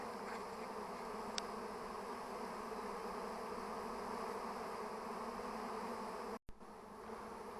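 A swarm of bees clustered along the length of a tree trunk near a forest apiary hums as a continuous dense drone, close and steady, with a brief knock near the end.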